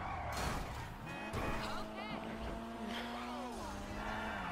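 Game car engine in a role-play driving session, a continuous motorboat-like drone with rising and falling pitch sweeps and rough sputtering, loud and steady throughout, with a voice talking over it.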